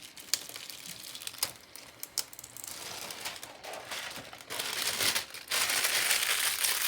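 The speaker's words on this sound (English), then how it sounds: "Removing the Hotfix tape." Hotfix rhinestone tape is peeled off a template for a tumbler wrap, giving close crinkling and crackling that starts sparse and grows into denser, louder rustling toward the end.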